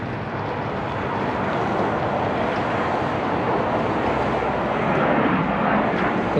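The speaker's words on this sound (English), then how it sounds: "You can hear a plane in the sky somewhere." An airplane passes somewhere overhead outside an aviation museum in Oakland, California, a broad, steady engine roar mixed with wind rumble that swells slightly toward the end, with no speech.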